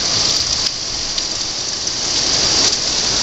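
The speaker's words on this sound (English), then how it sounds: "the damn rain just pouring and pouring and pouring" Heavy rain pours steadily onto the roofs of neighbouring houses, a dense, continuous hiss of countless drops that stays loud and even throughout, with no voices.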